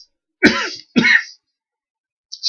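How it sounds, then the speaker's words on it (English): Two loud, close, dry coughs come in quick succession from an adult indoors, with near-silence after them and the start of a third sound right at the end. "coughing my lungs out"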